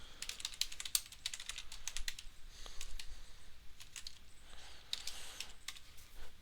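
Fast, steady typing on a computer keyboard while Java code is written, with close, crisp key clicks and no talking.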